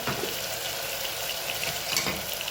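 Spices such as turmeric and salt being stirred into vegetables frying in a pan, a steady close sizzle with scraping stir strokes throughout, no voices.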